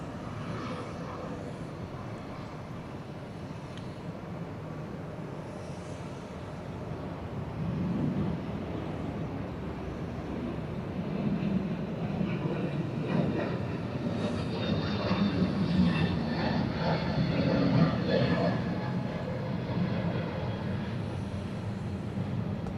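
A Frontier airliner rolls for takeoff at Atlanta airport, a distant jet roar building gradually and swelling louder over the runway, heard alone at a steady middle level.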